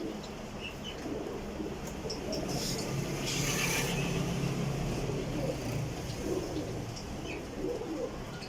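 Pigeons kept by a breeder coo in a steady, continuous murmur that fills the background, with faint chirps and a distant car now and then.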